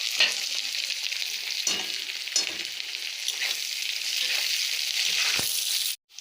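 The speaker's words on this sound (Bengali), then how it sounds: "এবার এগুলো সুন্দর করে ভাজা করে নিই।" Leafy greens fry in hot oil in a pan, giving a loud, steady crackling sizzle with a few stirring scrapes. It runs unbroken for about six seconds, then stops abruptly and resumes briefly.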